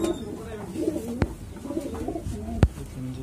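A kasni pigeon coos softly in low, rolling phrases, close by, with a few sharp knocks and handling sounds mixed in.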